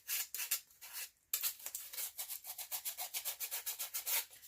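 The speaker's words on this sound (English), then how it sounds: "So don't be afraid to just use that sandpaper." Sandpaper rubbed by hand along the edges of a Dollar Tree craft piece, a close, steady series of quick scratchy strokes with one brief pause.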